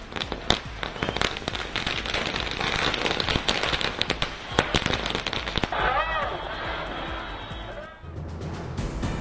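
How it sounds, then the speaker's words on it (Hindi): Rapid bursts of firecrackers crackle and pop densely, with fireworks booming amid a crowd of devotees at a religious procession in India; the barrage thins toward the end as a whistling rocket rises. "भक्तों ने किया आतिशबाजी।"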